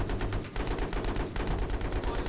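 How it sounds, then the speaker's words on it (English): Rapid gunfire from Battlefield 3 as weapons shoot down trees, a dense, continuous barrage of loud automatic shots with brief dips, close and filling the whole stretch. "Isn't this cool how you can just shoot down trees like that?"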